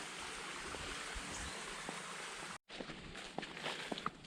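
A creek flows beside a woodland trail in Matthiessen State Park, a soft, steady rush of water with faint scattered clicks and footstep-like knocks, briefly cut by a moment of silence.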